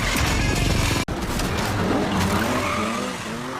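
A race car speeds along a dangerous mountain track, a loud engine roar with tire noise and a sharp break near the start, then continued driving under a rising whine.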